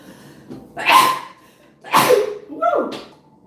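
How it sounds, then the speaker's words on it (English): A person sneezes three times in quick succession, loud and close, each sharp burst of breath about a second apart, the last one shorter. "Okay, have to sneeze."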